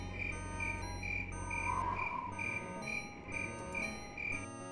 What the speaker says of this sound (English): very loud crickets